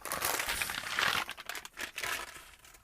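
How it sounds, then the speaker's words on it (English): Close crinkling and rustling, like plastic or paper being handled, crackles unevenly for about three seconds at a soft level, swelling and dipping with the movement. "Sorry for the rustling"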